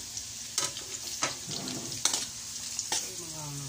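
Onions for pancit canton fry in a pan with light sizzling and intermittent stirring clatters, close up, with brief faint talk in the background.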